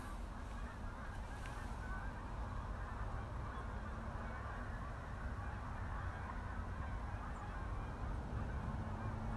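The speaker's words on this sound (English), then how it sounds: "I'm hearing the geese. There's a commotion. Some of them have just taken flight." Canada geese honk in a distant commotion at twilight in Snohomish, Washington, some taking flight, their calls faint and steady under continuous outdoor background noise.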